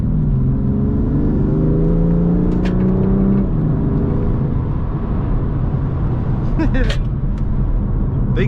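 A BMW M2 Competition accelerates with its exhaust rising in pitch through the gears, heard from inside the car, loud and continuous, with a few sharp high whistles and pops near the end.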